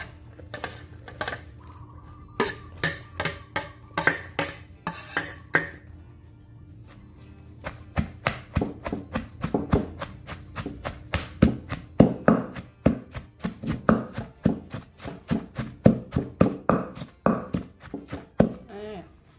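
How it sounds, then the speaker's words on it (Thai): Fresh chilies pounded in a mortar for a jaew pla ra dip, loud rhythmic thuds in quick bursts with a short pause, close and clear, with someone talking at times. "จะนำพริกมาโขลกต่อให้หมดเลยนะคะ"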